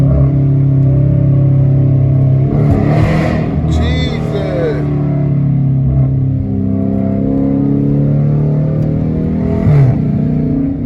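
A catless Dodge Challenger R/T engine hums and revs as it drives through traffic, rising and falling in pitch, with a voice speaking over the steady drone.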